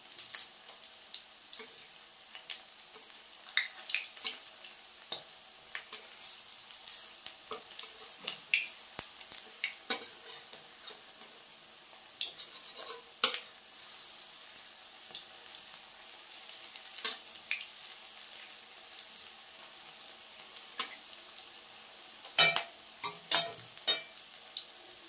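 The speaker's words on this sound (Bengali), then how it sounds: "এই যে জল পড়েছে তেলের মধ্যে, আর গ্যাস টকবক করে ফুটতে শুরু করে দিয়েছে" Hot oil in a pan on a gas stove crackles and sputters after water drips into it. Scattered, fairly faint pops run throughout, with a few louder bursts near the end, and no talking.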